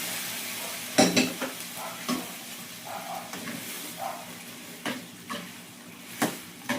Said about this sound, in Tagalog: lagyan na natin ang munggo natin